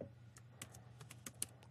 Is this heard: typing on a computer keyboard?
yes